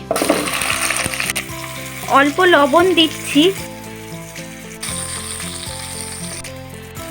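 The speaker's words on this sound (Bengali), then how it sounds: "ছোট 4টে আলু আমি হাফ করে কেটে নিয়েছি, সেটা ভেজে নিচ্ছি" Four small halved potatoes sizzle steadily in a hot pan, close and continuous beneath background music, while a voice speaks briefly partway through.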